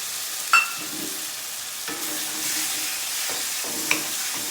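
Tomato paste stirred into frying masala gives a steady sizzle and hiss, broken by a few scraping stirs of the spoon against the pan.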